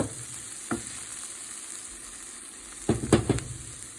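Sweet potato fried rice sizzling in a pan with vegetables, a steady hiss broken by a few sharp scrapes of stirring, one early and a quick cluster near the end.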